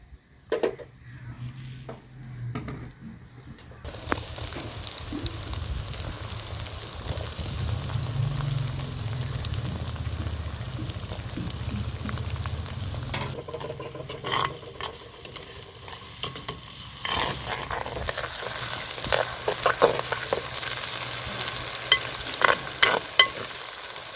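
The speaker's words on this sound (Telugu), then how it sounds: "ఇప్పుడైతే టమాటా పండ్లు వేసుకుందామండి" Tomatoes frying with ginger and garlic in oil for gongura mutton, with a steady loud sizzle and bursts of stirring and scraping in the pan throughout, no talking.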